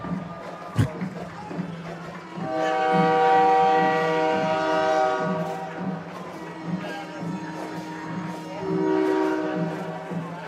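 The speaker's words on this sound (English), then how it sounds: "when that train comes rolling through, just blasting the horn" A slow freight train rolls past a high school football game, its horn blasting in long sustained chords over a low rumble, loud and close, with a crowd and talk in the background.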